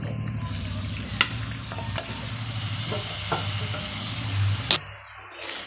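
Liver frying loudly in a pan, with a continuous sizzle broken by a few clacks and scrapes of stirring.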